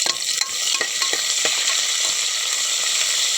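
Green chilies and a large onion fry in hot oil in a pan, a steady close sizzle with several sharp stirring scrapes and clicks of a utensil, no voices.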